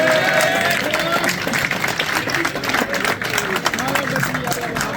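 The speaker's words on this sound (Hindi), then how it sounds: "फिर एक दफा फिर माशाल्लाह भरपूर तालियां जनाब" An audience applauds at an outdoor prize-distribution ceremony for pigeon racing in Birmingham, UK. Steady dense clapping continues throughout, with a voice speaking loudly over it on a public address.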